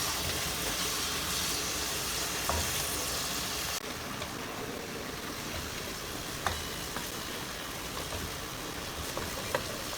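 A spicy biryani masala with jalapeños for country chicken dum biryani hisses steadily in a pan while being stirred, with faint scrapes and small knocks now and then.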